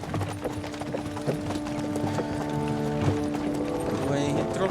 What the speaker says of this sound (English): Ele não tava com esse cavalo aí, esse barulho.